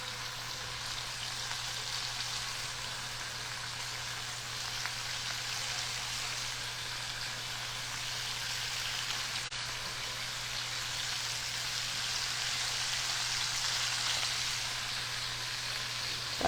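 Large scallops sear in a hot pan, giving a faint, steady crackling sizzle with a low hum beneath, continuous for the whole stretch.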